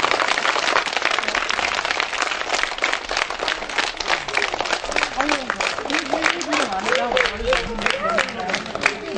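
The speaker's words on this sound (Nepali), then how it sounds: "ल ताली बजाउने सबैलाई।" A group of children claps together in a dense, steady patter, with voices rising over the clapping toward the end.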